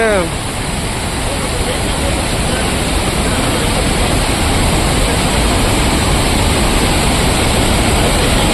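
A waterfall on the forest route from Valparai to Athirappilly roars as a loud, steady, broadband rush that fills the whole stretch, with nothing else rising above it.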